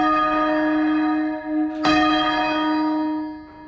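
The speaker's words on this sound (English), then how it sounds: "bell ringers will always ring for royal celebrations, whatever they are." Church bells rung by bell ringers to celebrate King Charles's coronation, a loud sustained bell tone ringing out, briefly dipping, then struck again with a bright clang and a long resonant decay.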